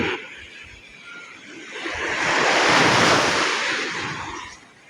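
Ocean surf washing onto the shoreline after a night of heavy rain, a broad steady roar of breaking waves that swells to a louder crash midway and then eases, with wind noise on the microphone and no voices.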